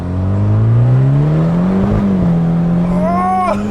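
A 300-horsepower all-wheel-drive Mitsubishi Evo MR accelerating hard, engine note climbing loud and close from inside the car, then a sharp rising rev near the end.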